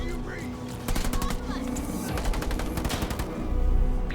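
Rapid gunfire from hostile vehicles in a video game crackles in dense bursts over a rumbling low drone, continuous and loud, with a voice calling out over the shooting.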